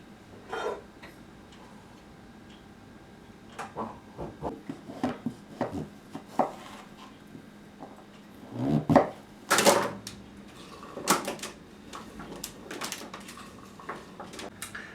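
A knife chops through pumpkin on a board, a series of sharp, uneven cuts with pauses and a few heavier thuds, close up.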